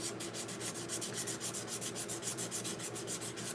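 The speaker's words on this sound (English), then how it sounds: "it's just me sanding." Sandpaper rasps back and forth over a surface in quick, even strokes, a soft, steady scratching rhythm with no talking.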